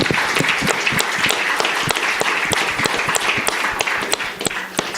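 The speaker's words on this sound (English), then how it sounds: "So a big round of applause to all the speakers." A conference audience applauds loudly, dense overlapping claps continuing steadily throughout, close and energetic with no voices over it.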